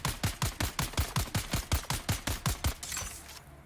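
A rapid burst of about fifteen evenly spaced gunshots rings out in the game Dune Awakening, loud and punchy, then stops abruptly with a fading tail.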